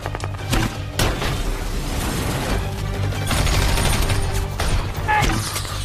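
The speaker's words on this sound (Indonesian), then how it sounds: "Case melemparkan api ke arah kendaraan yang terdapat tumpahan minyak sehingga ledakan pun" Vehicle explosion set off by fire thrown onto spilled oil in an action film, deep booming blasts and scattered gunfire-like cracks rolling through a busy, loud combat scene, with some narration mixed in.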